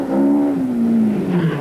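A four-wheel-drive Audi rally car drives past in a short burst, its engine note loud and close and its pitch falling steadily as it goes by.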